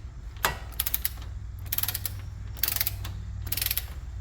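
A ratchet wrench clicks in quick repeated bursts as brake caliper mounting bolts are torqued during a front big brake kit install, the ratcheting close and crisp in four clusters.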